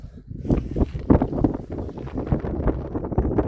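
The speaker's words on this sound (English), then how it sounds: "It's always fucking windy in my area." Gusty wind buffets the microphone outdoors in low, irregular rumbling bursts, close and fairly loud throughout, during a repair of a small Ryobi two-stroke tiller.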